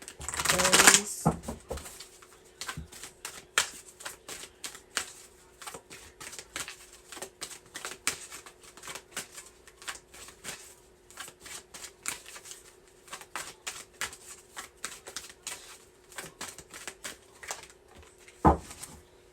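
A deck of Sacred Rebel oracle cards is shuffled up close in a quiet room, with soft repeated riffling and tapping that runs steadily for the whole stretch and is framed by a couple of louder handling knocks.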